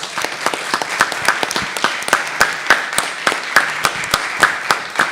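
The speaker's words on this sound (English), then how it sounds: "So let's give her a round of applause" A round of applause at a school district board meeting, sustained clapping from an audience with sharp individual claps standing out, steady and fairly loud throughout, with no one speaking.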